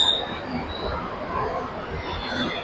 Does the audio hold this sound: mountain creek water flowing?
no